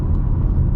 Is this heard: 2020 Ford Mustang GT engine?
yes